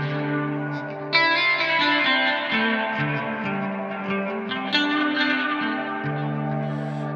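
A guitar played through a delay pedal, its echo repeats stacking up with feedback into a sustained, reverberant wash of sound that swells with each new note.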